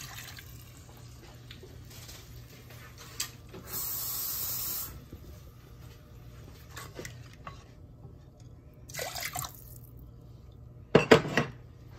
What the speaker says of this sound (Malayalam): ഈ മീൻ തല മുങ്ങാൻ വേണ്ടി കുറച്ചുകൂടെ വെള്ളം നമുക്ക് ഇതിനകത്ത് ഇടാം.